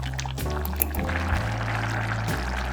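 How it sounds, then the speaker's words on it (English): Broth poured by the cup into short rib risotto in a home kitchen, a steady close liquid pour over low background hum, with no talking. "you slowly want to add cups of the broth in so the rice can absorb the liquid"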